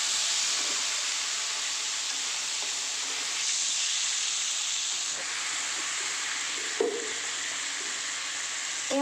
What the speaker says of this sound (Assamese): এতিয়া লাহে লাহে কণীখিনি ভাজা হৈ গৈছে এতিয়া মই ইয়াত দি দিম আলু